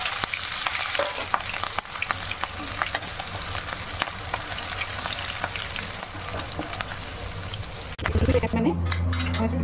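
Crushed garlic and chopped green chillies fry in a pan with a steady sizzle, stirred with scraping utensil clicks, then a louder burst of frying near the end.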